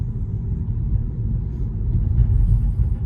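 Cars rumble past on a city street beside a park and parking lot, a continuous low traffic drone that swells slightly toward the end, heard at mid distance with no talking.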